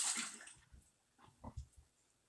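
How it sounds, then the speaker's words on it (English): Water being changed out for wet felting, a brief close splash and rush of running water at the start, then a few quieter sloshes and drips, faint overall. "I think I'm going to take a second and change out my water as well."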